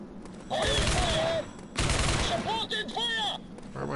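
Gunfire in the game Rogue Trooper Redux, heard as bursts of dense rapid shots in two main volleys with a sustained crackle between them, loud and close, with whistling tonal effects layered on top.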